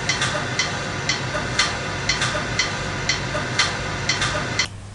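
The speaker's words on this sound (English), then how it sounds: "I found a really nice hi-hatty noise, and it sounds like this in the beat." Hi-hat-like percussion made from a rain recording ticks in a steady, even beat over a constant hissing wash of noise, close and fairly loud, stopping just before the end.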